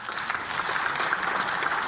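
Steady applause rises from lawmakers' seats in a National Assembly plenary chamber, dense and even throughout, moderately distant with no talk over it.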